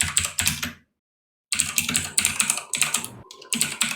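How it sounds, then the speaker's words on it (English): Fast bursts of clicking keystrokes on a computer keyboard, close to the microphone, broken by a short silent pause partway through. "Hey, Zepti, you're typing."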